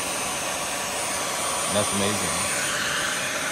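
A repaired Dyson V12/V15 cordless vacuum cleaner runs with a constant high-pitched motor whine and airy rush, close and steady, while a person briefly speaks over it.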